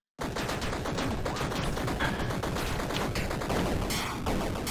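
Loud, dense explosions and gunfire-like blasts from the roguelike video game Tiny Rogues, a continuous barrage of booms and crackles filling the whole stretch with no talk.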